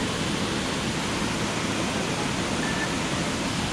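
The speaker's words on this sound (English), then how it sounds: "So this is the second part of the Berkelah Waterfall." Berkelah Waterfall near Kuantan pours in a steady, dense broadband rush of falling water, loud and continuous from start to finish with no voices over it.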